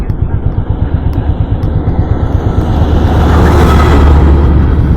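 A long column of military vehicles rolls past on a road, engines rumbling loudly and continuously, with a deepening roar as a heavier vehicle nears.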